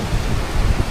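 Heavy rain pours in a brief, loud, even wash of broadband noise, with no voices.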